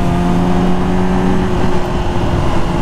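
A 2020 Yamaha R6 sport bike on a canyon ride revs loud and close through a second gear change, a steady high engine whine with no speech over it.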